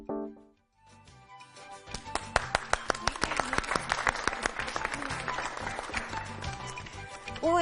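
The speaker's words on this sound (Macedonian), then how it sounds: "Овој аплауз ќе биде загревање" An audience at a school event claps in a dense, sustained burst that swells and stays loud for several seconds after a brief quiet start.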